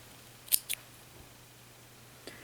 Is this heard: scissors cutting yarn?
yes